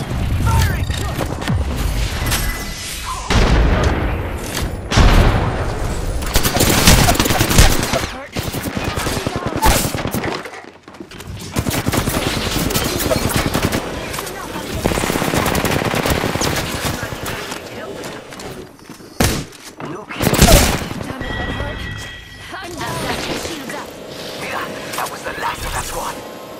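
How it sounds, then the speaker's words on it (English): Dense, loud automatic gunfire and heavy booms from the shooter game Apex Legends rattle on almost without a break, with short lulls between bursts and game voice lines mixed in. "Got trouble here. Keep firing!"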